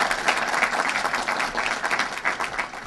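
A crowd at a Côte d'Ivoire salon gathering in Los Angeles gives a steady, dense round of applause, many hands clapping close together at even strength throughout.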